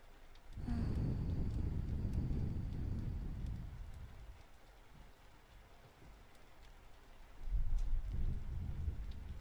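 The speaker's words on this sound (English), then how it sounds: "Oh my gosh, it's thundering." A heavy roll of thunder rumbles low and loud with rain, fades into a softer patter, then a second deep rumble swells near the end, heard indoors at close range.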